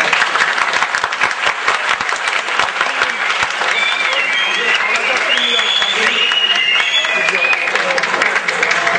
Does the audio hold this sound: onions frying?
no